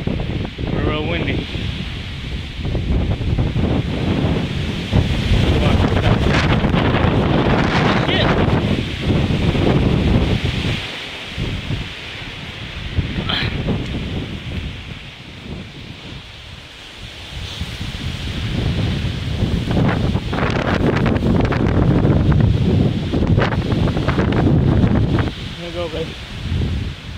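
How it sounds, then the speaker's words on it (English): Strong wind buffets and roars in gusts, rising and falling over a long stretch, with a brief lull partway through. "we're real windy."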